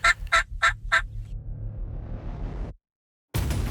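A wild turkey gobbles during a hunt, four quick rattling gobble notes in a rapid burst close by, followed by a low rumbling swish that cuts to silence before a loud noise returns.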